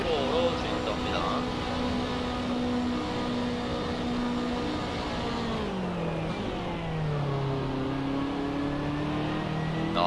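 BMW M3 GT2 race car in Assetto Corsa, lapping Circuit Gilles Villeneuve at a steady 100 km/h: a continuous mid-pitched engine drone that dips and shifts briefly before settling again, running under race commentary throughout.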